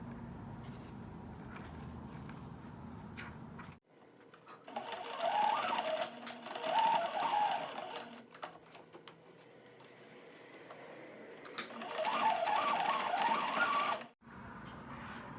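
A sewing machine stitches bunny ears onto the bunny's face in two close bursts of fast, even mechanical whirring, with quieter handling and room sound in between and at the edges.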